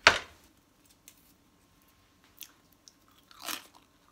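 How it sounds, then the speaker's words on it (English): Someone bites into crisp, slightly bendy raw cauliflower: one sharp crunch at the start, then a few faint chewing crunches and a louder crunch later, close to the listener, with no talking. "I do like raw veg. Although this is slightly bendy, it's still very crispy."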